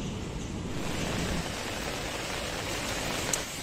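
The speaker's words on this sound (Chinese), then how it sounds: "现在还在下着小雨。" Light rain falling steadily outdoors after a heavy downpour, a constant even hiss with no voices.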